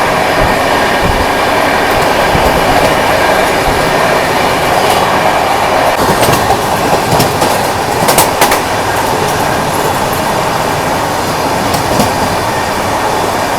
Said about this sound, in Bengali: আমরা দিতে চলেছি ওভারটেক বন্দে ভারত এক্সপ্রেসকে।